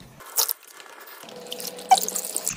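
Freshly boiled hot water is poured onto a cotton towel, giving short splashing and dripping bursts of liquid, close and fairly loud, separated by brief quiet gaps.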